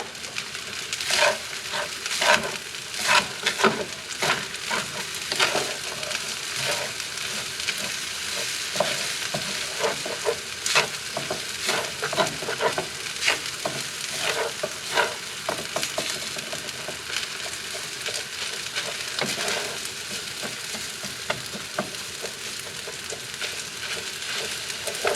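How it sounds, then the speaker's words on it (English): Rice being stir-fried in a pan with a little added oil, a continuous sizzle broken by frequent scraping and stirring knocks from close by. "my pan wants to stick, so I'm gonna throw in just a little bit more oil"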